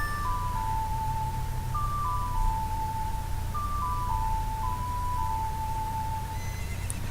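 Horse neighing in The Legend of Zelda: Ocarina of Time as the mare Epona answers a song, several bright whinny calls rising and falling over a steady low game background hum.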